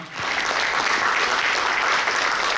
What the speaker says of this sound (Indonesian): Kita beri aplaus teman-teman